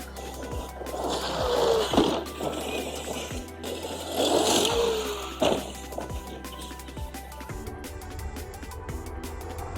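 An Arrma Kraton 8S RC car drives on sand, its electric motor whining and rising in two bursts with scraping and crunching of wheels on sand, heard from a short distance amid outdoor noise.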